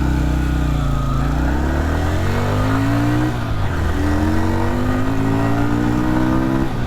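A 1994 Yamaha Virago 250 cruiser accelerates hard in first gear on a rainy road, its engine note climbing in a loud, close, rising drone that dips once and climbs again.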